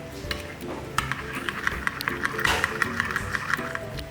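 Mayonnaise being stirred into a kumquat dipping sauce for rice paper, with soft repeated scraping and clinking of a utensil against a bowl in a steady rhythm, close and moderately quiet, without talk.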